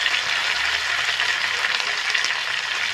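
Tomato, ginger, dried chilli and cumin paste frying in a pan with potatoes for a snakehead fish curry, giving a steady, dense sizzle that stays close and even throughout with no talk.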